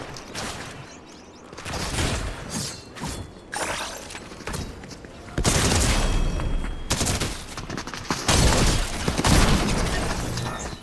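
Rapid bursts of automated gunfire from an auto turret in a survival video game, loud clustered volleys that start and stop repeatedly with sharp impact and shattering noises, no voices.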